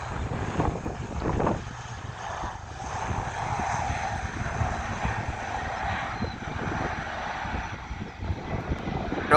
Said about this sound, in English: ATR 42, I think, because it's Logan Air and they operate both, but it's short, so I think it's the 42.